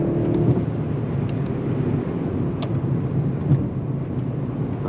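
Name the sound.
2022 Mercedes-Benz S580 accelerating with 9-speed gear shifts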